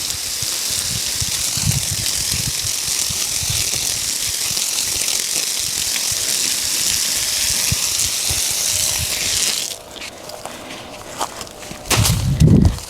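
Water gushes steadily from a hose onto a compost pile layered with leaves and espresso coffee grounds, a continuous hissing spray that stops near the end, leaving faint rustles and a closer clunk.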